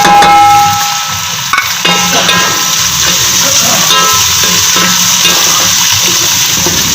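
Green chillies, onion and tomato dropped into hot oil in a frying pan, a loud burst of sizzling that settles into a steady, dense crackle up close.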